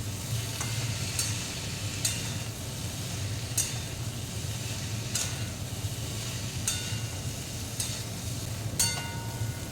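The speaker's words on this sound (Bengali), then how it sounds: "আবারও ভালোভাবে কষিয়ে নিতে হবে।" Potato and pumpkin are sautéed with cumin powder in a pan, a steady low sizzle running throughout, broken by regular sharp scrapes and clacks of a spatula stirring every second or so, close up.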